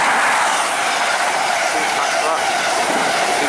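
An HST high speed train bound for Aberdeen runs non-stop through Grantham station, a loud steady rushing roar with rail clatter that stays close and constant throughout.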